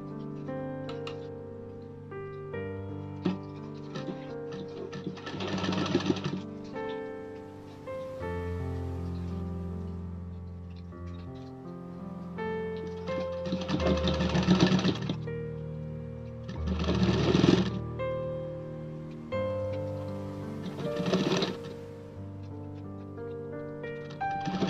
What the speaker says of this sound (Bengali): সোজা পিঠে পর সোজা পিঠ রেখে সেলাই দেবো